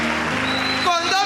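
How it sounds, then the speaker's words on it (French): A church congregation claps during a Christian service, steady applause under a preacher's loud spoken voice. "applaudis très fort le Seigneur Jésus"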